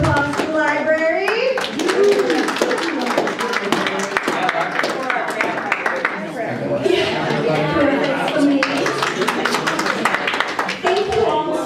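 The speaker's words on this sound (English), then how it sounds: "Can we have a round of applause for the library?" Audience applause for the library at a PEN America event, steady clapping from a crowd with children's voices and chatter mixed in throughout.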